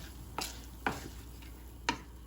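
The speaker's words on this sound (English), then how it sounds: "I'm gonna give that just a little stir to get everything wet." A spoon stirs 2.5 cups of instant rice in a pot of liquid with three short scraping strokes, spaced apart and close, against a faint background hum.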